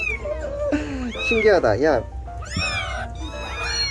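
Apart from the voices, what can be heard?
kittens meowing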